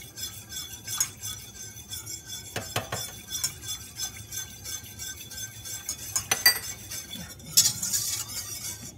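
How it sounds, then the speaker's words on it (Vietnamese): Five metal pho spoons clatter into a bowl while making coconut pudding, giving scattered bright metallic clinks and clanks, close, amid light scraping and handling sounds. "Mình sẽ bỏ vào đây 5 cái này là cái muỗng ăn phở nha các bạn."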